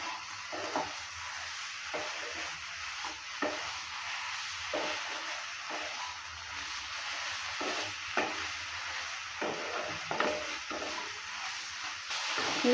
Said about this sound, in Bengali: এবার দিয়ে দিচ্ছি এখানে ব্রোকলি আর আলু যেটা ভেজে রাখলাম। ব্রোকলি আলুটা দেওয়ার পর ভালো করে নেড়ে চেড়ে নিচ্ছি।